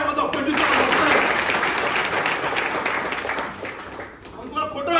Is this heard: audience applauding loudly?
yes